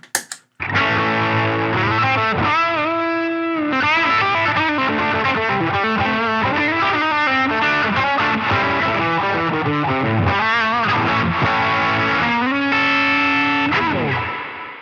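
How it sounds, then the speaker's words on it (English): An electric guitar with humbucker-style tone plays a melodic phrase through a NUX Atlantic pedal set to spring reverb with light overdrive. The notes are sustained and slightly gritty, with a springy tail, played alone and clearly up front. "Let's go to a spring reverb with a light overdrive."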